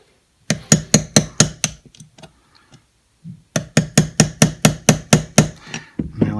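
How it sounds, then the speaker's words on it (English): A 1/16 pin punch is tapped with a small hammer to drive the trigger pin out of a Canik SF Elite pistol: two quick bursts of close, bright metallic taps in steady rhythm, split by a short pause. "our 1/16 punch, like I said, we want to come from here if we can and drive it out this way"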